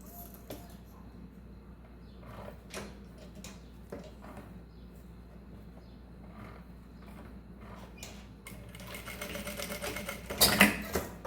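Sewing machine stitching a pouch from mesh fabric, with short bursts of running and stopping through the first part, then a louder, denser run of stitching near the end, without talk.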